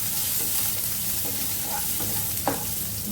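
Chopped onions frying in a pan over medium heat for a quinoa pulao, a steady close sizzle with a few soft clinks and scrapes of stirring, one sharper knock near the end.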